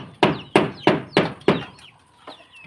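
Chickens being fed rice in the morning cluck loudly and close by, giving five sharp evenly spaced clucks followed by a quieter pause and one more call.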